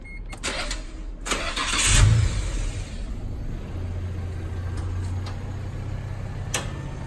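A used JDM car at auction cranks over with clicks and a brief starter whirr, catches, then settles into a steady low idle that holds to the end, with no talking.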